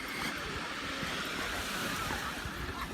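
Black Sea waves washing onto a sandy beach, a steady close wash of water and surf with some wind, no talking over it.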